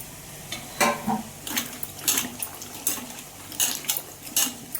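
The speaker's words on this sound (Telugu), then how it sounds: "వేరే వాటర్లో మళ్ళీ కడిగేస్తాను" Brinjals being rinsed by hand in a bowl of fresh water for a sour brinjal and raw mango curry, giving intermittent close splashes and sloshing bursts with quiet gaps between them, no voices.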